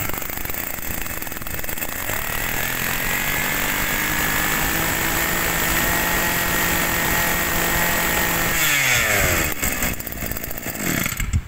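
Small Tanaka two-stroke Japanese grass cutter engine of 21cc running at high revs, a loud, close and buzzy whine held steady, then dropping and rising near the end.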